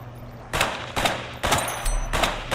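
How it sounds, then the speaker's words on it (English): Explosions and gunfire from an online survival video game. Five loud, sharp bursts come about half a second apart, each with a ringing tail, and there is no talking. "Flashbang."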